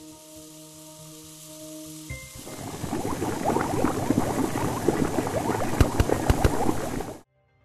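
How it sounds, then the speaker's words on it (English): Heated hydrogen peroxide decomposing into oxygen and water, starting as a low hum and then breaking into dense, rising fizzing and bubbling with a few sharp pops before cutting off abruptly. "Hydrogen peroxide, when heated, decomposes, releasing oxygen and water."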